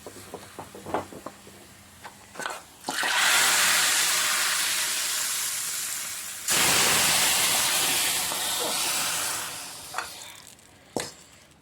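Sizzling garlic tempering is poured into a horse gram curry, a loud burst of hissing sizzle that fades, then surges again before dying down, framed by a few clinks and clatters at the start and end.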